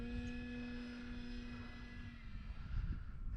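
A Carbon Z Cub SS RC airplane flies overhead, its electric motor giving a steady, sustained whine with strong harmonic tones that shift slightly in pitch as it passes. The drone is moderately loud and continuous, with some wind or handling noise near the end.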